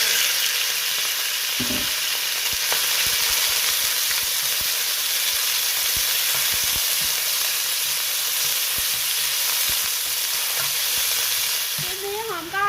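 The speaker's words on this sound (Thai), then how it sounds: "แล้วผมก็จะผัดหมูนะคะ ผัดหมูให้สุก" Pork stir-frying in a hot pan with black pepper sauce: a loud, continuous sizzle and hiss, punctuated by scrapes and clicks of a utensil stirring the meat, with no talking.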